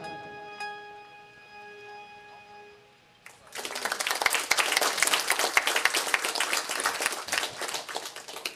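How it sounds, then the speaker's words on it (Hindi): After a few seconds of a quiet sustained musical tone, a crowd at a Jain Chaturmas kalash-installation ceremony in Balram Nagar bursts into loud, dense applause that continues steadily to the end. "ताली बजाकर आप सभी इस कार्य की अनुमोदना करें।"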